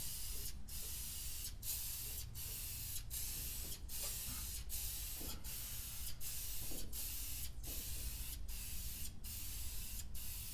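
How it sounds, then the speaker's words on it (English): Short bursts of spray paint hiss steadily onto the back wall of a Ford Ranger truggy build, about a dozen quick repeated blasts in an even rhythm, close and alone with no talking. "Give her a little test blast. Alright, we got paint."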